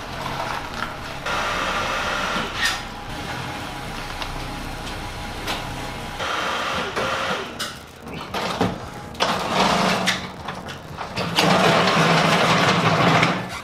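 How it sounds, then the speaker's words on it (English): A snowblower engine is started on a driveway, cranking and catching, then running loud and steady with uneven surges, close by and with no talking. "So I'm gonna go snowblow the driveway real quick because it's been bugging me."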